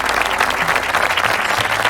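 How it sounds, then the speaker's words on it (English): Audience applause greets a speaker coming on stage, a dense, loud, steady wash of many hands clapping at once with a few voices mixed faintly underneath. "Please welcome on stage, a big round of applause to Miss Michaela."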